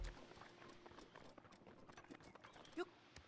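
Horse hooves clip-clop at a steady pace in The Legend of Zelda: Breath of the Wild, close and continuous over soft background game ambience.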